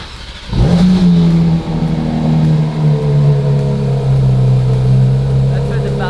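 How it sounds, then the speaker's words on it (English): A vintage Porsche with a JCR exhaust fires up from a cold start at a car meet on a speedway, the engine catching with a sharp burst and then settling into a loud, steady, close idle. "Cold start JCR exhaust."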